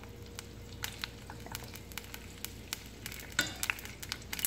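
Olive oil heats in a stainless steel pan for flavoured oil, giving a faint, continuous low sizzle broken by irregular spoon scrapes and stirring taps, with a brief louder clatter near the end and no speech.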